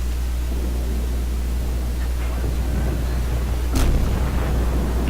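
Warship guns fire in the video game World of Warships, a Murmansk cruiser booming over a constant low engine and sea rumble, with one distinct report standing out partway through.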